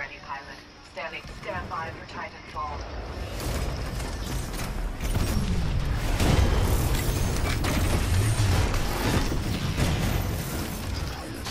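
Grenade explosions in a Domination match of a shooter game: a voice speaks briefly, then a dense run of rumbling booms and bursts builds and rolls on loudly for several seconds.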